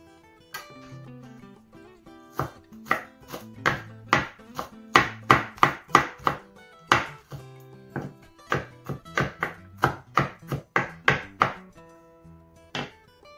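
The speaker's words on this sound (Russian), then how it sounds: "чеснок мы просто сейчас давим и режем на мелкие кусочки" A knife crushes and finely chops garlic on a cutting board in a steady run of sharp, close taps, some quick and clustered, with brief pauses between bursts.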